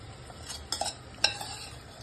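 A spoon stirs tomatoes with turmeric, salt and chili powder in a pan, giving a few quick scraping clicks over a quiet low sizzle.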